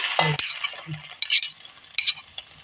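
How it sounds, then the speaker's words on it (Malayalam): Mustard seeds sizzle and crackle in hot oil while being stirred for a cucumber pickle, a steady bright hiss with light clinks of a spoon against the pan, close and fairly loud. "ഇപ്പൊ ചൂടായില്ലേ ആ എണ്ണ ചൂടായി ഇനി കടുക് ഇടണം"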